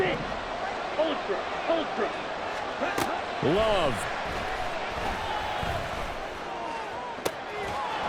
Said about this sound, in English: This Buffalo crowd letting them have it.